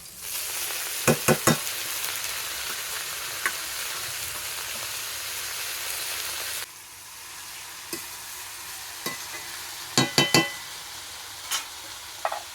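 Leafy greens (shak) frying and being stirred in a pan over fried chopped onions, a steady sizzle with a few sharp clinks of the spatula scattered through, loudest early on, then softer with more stirring knocks.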